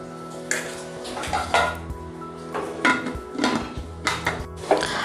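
Metal lid clanks onto a cooking pot of masoor (lentil) biryani, with several sharp, close knocks and rattles scattered over a few seconds against a steady low kitchen hum.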